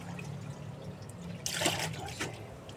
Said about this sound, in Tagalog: papalitan ng tubig na malinis.